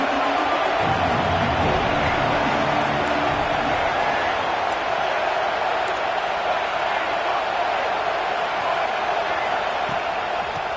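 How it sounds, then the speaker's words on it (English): A football stadium crowd at kickoff gives off a dense, steady roar that fills the air without pause, with a commentator's voice faintly mixed under it. "This crowd ready to make its presence known."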